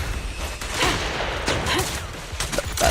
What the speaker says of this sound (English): from the time the gun shoots to the bullet impact is 2 seconds. Sustain fire.